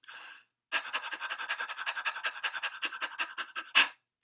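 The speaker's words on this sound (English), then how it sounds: "5 seconds of panting" Rhythmic loud panting done as a breathing exercise for singers, rapid sharp breaths pulsing evenly about five times a second for three seconds, close and alone.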